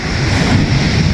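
Strong ocean waves wash against the shore, a loud continuous roar and hiss of surf with wind rushing across the microphone, close and unbroken.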